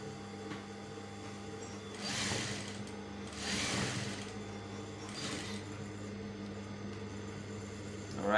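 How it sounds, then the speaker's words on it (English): A sewing machine stitches along the edge of a shirt collar, a steady quiet whir with a few louder bursts of rapid stitching. "now that we are done sewing on the edge, you can see our line is on the edge of it"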